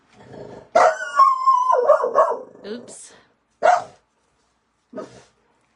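A small dog barks and yips in a quick run of loud close barks, then a couple of separate single barks after pauses, with a person's brief remark near the start.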